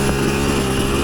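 A Chinese dirt bike engine pulls away in first gear, a loud, steady droning buzz with a dense harmonic whine held close and continuous throughout the short moment, no voices.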